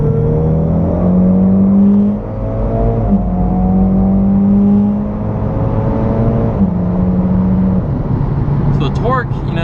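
A Mitsubishi Lancer Evolution X MR running E85 accelerates hard in sport mode from inside the cabin, the engine note climbing through gears with quick shift drops, a loud close drone with a faint voice near the end.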